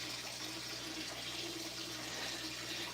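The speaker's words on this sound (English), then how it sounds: "Let's put some water in the freshwater tank" Tap water runs steadily into a freshwater aquarium tank, a continuous soft splashing rush over a low hum, fairly faint and unbroken throughout.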